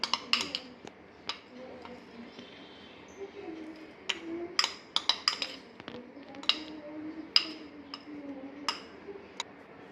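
Melted chocolate is stirred into a modak mixture in a bowl, with a spoon clinking and tapping against the bowl in scattered sharp ticks over a soft background scrape.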